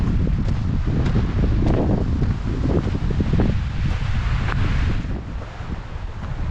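Strong wind buffets the microphone on a meadow hiking trail toward Apikuni Falls, a continuous loud roar and rumble with gusting swells and rustling, easing slightly near the end.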